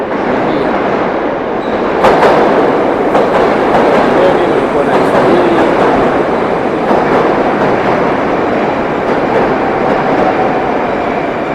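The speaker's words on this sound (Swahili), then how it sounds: "treni nilikuwa naisubiri" A Moscow metro train rumbles steadily nearby at a station with a continuous loud roar and a faint high whine, no clear stop or braking.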